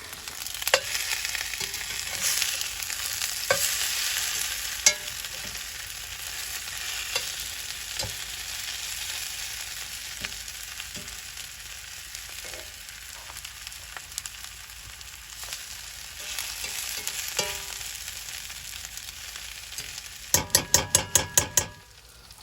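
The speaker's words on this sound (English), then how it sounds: "Potatoes and onions are starting to brown up really nice," Potatoes and onions frying in a cast iron skillet at a deer camp, with a steady close hiss and crackle, occasional scrapes of stirring, and a rapid clatter of utensil taps at the end.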